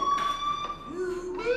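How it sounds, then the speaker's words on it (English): A school fire alarm in the video game Life is Strange rings as a sustained electronic tone with pulsing bursts, heard alongside faint background game sounds. "Hey, do you hear that fire alarm?"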